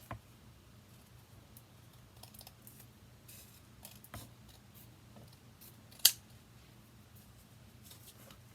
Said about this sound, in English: Scissors open again.